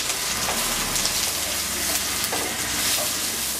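Chopped onion, garlic and green chilli frying in hot mustard oil, a loud continuous crackling sizzle that holds steady from start to finish with no voices.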